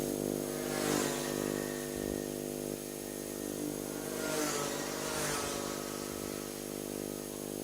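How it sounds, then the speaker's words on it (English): Rotax Max racing karts scream past the finish line in a qualifying session of an Asian kart championship, high-pitched two-stroke engines rising and fading in several close passes. "So 3 more karts to go as they all cross the line."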